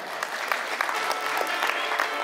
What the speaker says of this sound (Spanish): Un fuerte voto de aplauso para nuestra quinceañera